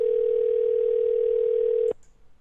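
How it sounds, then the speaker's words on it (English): A telephone line gives a loud, steady single-pitched tone that holds for about two seconds and then cuts off abruptly, followed by faint clicks and quiet. "Come on, answer your phone."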